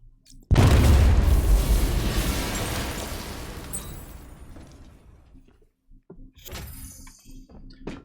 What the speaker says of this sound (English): I shouldn't detonate until I'm further away.